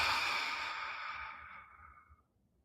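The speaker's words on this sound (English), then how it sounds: "Exhale." One long, deep exhale is breathed out slowly during a guided breathing exercise, a soft airy rush that fades gradually to silence over a couple of seconds.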